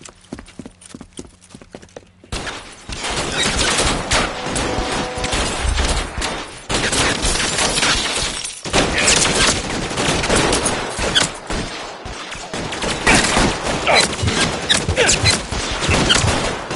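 A shootout in L.A. Noire, where police and gunmen trade rapid, dense bursts of gunfire that crack loudly and continuously, with a few scattered shots at the start before the heavy exchange.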